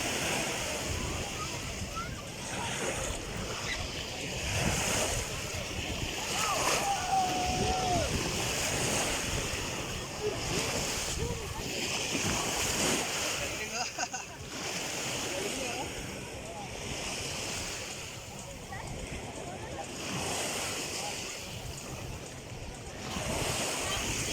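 Sea waves wash onto West Bay Beach in a continuous rolling surf with gusts of wind buffeting the microphone, while people chat nearby over the water.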